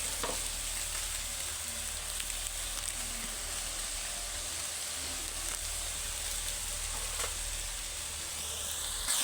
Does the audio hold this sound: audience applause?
no